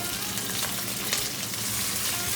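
Steady, loud sizzling of pork tenderloin searing in hot oil in a frying pan, a continuous crackling hiss with small pops throughout.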